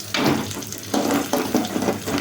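Sliced onions frying in hot oil for egg rice, a close sizzle broken by repeated scraping stir strokes in a pan, no talk.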